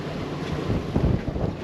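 Strong wind roars across the microphone in a steady, buffeting rush on a sailboat at anchor, with faint water sounds beneath and no speech.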